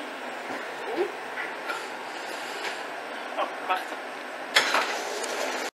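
Inside an empty metro car, a steady rolling rumble and hiss fill the space, with occasional clacks and rattles from the carriage and a louder jolt near the end before it cuts off.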